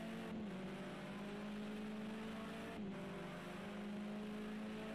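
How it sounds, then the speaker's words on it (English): A touring car engine in Project CARS 2 at the Zolder circuit, a steady droning hum held at an even pitch with two brief dips as the driver lifts or shifts, continuous and fairly quiet, no talking. "we'll take the engine noise down a little bit"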